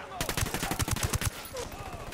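Rapid gunfire in the Tom Clancy's Ghost Recon video game cracks out as a quick burst of about nine close shots, followed by a short quieter tail.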